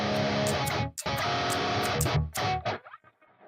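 An electric guitar plays a riff, with chords broken up by short percussive muted-string hits. The sound is close and driven, then stops in a few muffled scrapes.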